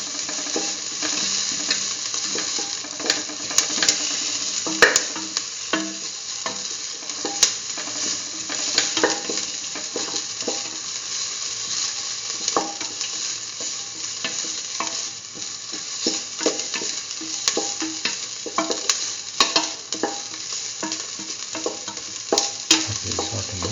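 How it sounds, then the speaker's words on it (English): Potatoes and soya chunks sautéing in a pan for rice: a constant crackling sizzle with frequent scraping and clicking of the spoon against the pan, close and fairly loud, with no speech. "Keep on sauteing."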